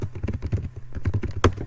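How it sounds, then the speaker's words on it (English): Quick taps on a computer keyboard come in an uneven burst of soft clicks, close by and fairly quiet, ending in one sharper keystroke. "So I'm going to type and text at the same time"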